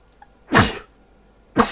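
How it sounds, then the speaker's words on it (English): Two sharp human sneezes burst out close by, separated by about a second, each a loud explosive blast of breath that quickly fades, with quiet in between. "I'm going to sneeze again."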